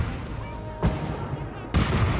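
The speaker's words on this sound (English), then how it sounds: "Oh, fireworks!" Fireworks bursting in the Fallout 4 Nuka-World video game, two sharp booming blasts about a second apart over a rumbling game soundscape.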